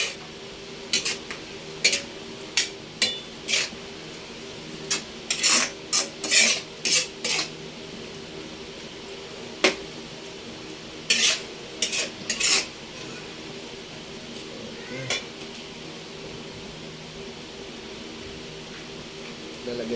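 A utensil stirs beef and mushrooms in cooking oil, making intermittent metallic scrapes and clinks against the pan in short bursts over a quiet, faintly sizzling background.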